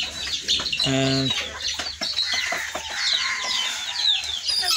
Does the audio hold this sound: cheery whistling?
no